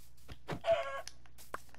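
A Minecraft chicken clucks in a short burst of fowl calls, near and moderately loud, followed by a faint extra cluck after a pause.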